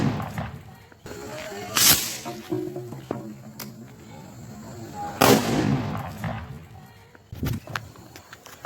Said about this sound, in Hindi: आपने देखोगे कितना बड़ा धमाका हुआ